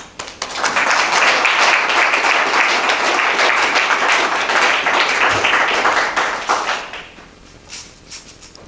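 A Toastmasters meeting audience applauds to welcome a speaker, a dense burst of clapping that swells quickly, holds steady for several seconds, then tapers off into a few scattered claps.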